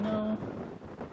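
Wind rushing outdoors at a Wyoming event, steady broadband noise buffeting the microphone, with a brief tonal hum at the start fading into the gusty roar.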